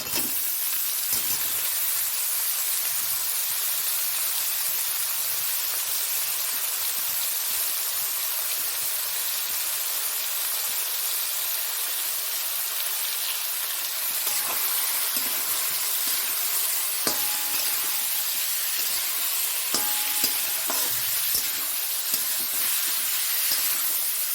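Cauliflower sizzles in hot oil in a pan alongside already-fried onion, with a steady, close frying hiss throughout and occasional faint clinks from stirring. No one speaks.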